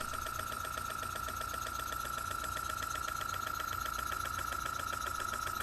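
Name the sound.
Rudy Kouhoupt single-cylinder spool valve horizontal model engine running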